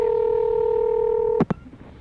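A steady two-tone telephone dial tone hums on a landline for over a second and then breaks into a quick pair of DTMF keypad beeps as someone dials out on a different line, followed by faint line hiss.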